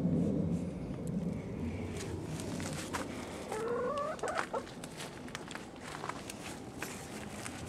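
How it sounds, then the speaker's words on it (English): Chickens cluck and squawk close by, with shuffling footsteps and faint rustling in the background. "That way you can see the chickens."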